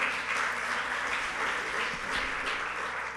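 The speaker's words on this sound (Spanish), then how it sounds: "bienvenido al aplauso" A conference audience applauds after a talk, a dense, even round of clapping from many hands that holds steady at moderate loudness throughout.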